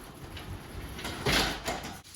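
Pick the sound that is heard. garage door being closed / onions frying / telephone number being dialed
garage door being closed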